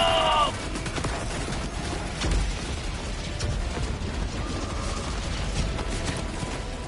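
Sentry turrets in Helldivers 2 rattle off rapid, mechanical bursts of fire in a fight against the Illuminate, with ratcheting clicks and shots layered over game noise and occasional talk.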